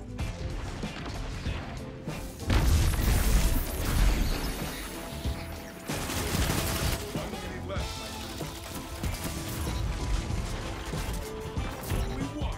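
Auto rifle fire in Destiny rattles in sustained loud bursts mixed with heavy game action and impacts, with a voice talking over it.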